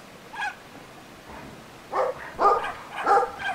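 Dog barks during a video game session, several short sharp barks around the middle and end, fairly close and loud with no talk over them.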